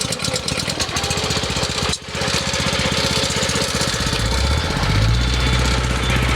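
A Hud-son topsoil screener's small engine, started on choke, catches and runs with a fast, loud chugging rhythm, stumbling briefly once before settling into a steady rattling idle, close to the microphone.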